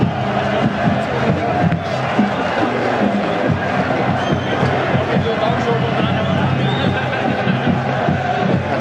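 A packed football crowd roars and cheers at Oriel Park, Dundalk, before an FAI Cup final, a dense, continuous wall of noise with a voice speaking over it throughout.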